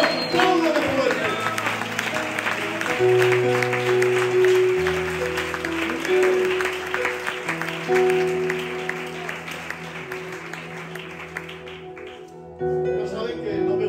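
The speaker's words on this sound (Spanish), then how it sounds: "Siempre a Dios, aplaude de fuerte" A church congregation applauds loudly for God during a sermon, with sustained dense clapping over held organ or keyboard chords and a voice speaking through it, then the clapping fades out near the end.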